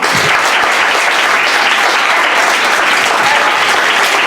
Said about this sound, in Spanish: Ahora sí que podéis aplaudir, ¿no?